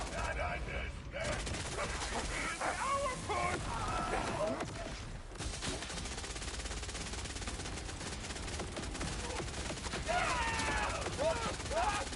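Rapid, dense gunfire from the video game Borderlands 4 rattles almost continuously for about twelve seconds, with machine-gun-like bursts and booming shots, loud and close, while voices talk over the shooting.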